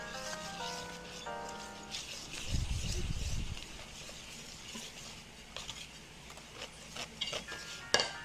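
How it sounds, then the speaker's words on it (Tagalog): A whisk scrapes and clinks steadily around a bowl of custard cake mixture, small metallic taps and swishes at close range, with a brief low rumble in the middle. "Kailangan natin siya i-mix maigi para matanggal ang mga lumps."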